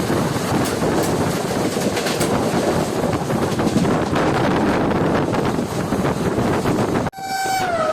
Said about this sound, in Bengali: আমাদের ট্রেন ক্রস করছে এখন ময়ূরাক্ষী রিভার